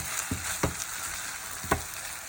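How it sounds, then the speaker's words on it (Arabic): Rice is stirred in hot oil in a pot. The frying hiss is steady, and the spoon scrapes against the pot at three separate moments. "هقعد اقلب في الرز كده لحد ما الميه اللي فيه تتشرب خالص من الزيت اللي انا حطاه"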